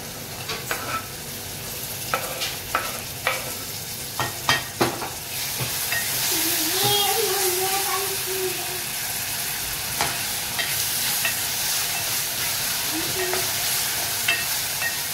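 Tomatoes tipped into a pan of garlic and onion frying for a Marathi village-style spinach and radish dish, giving steady sizzling with scattered sharp clinks of stirring and a brief muffled voice midway.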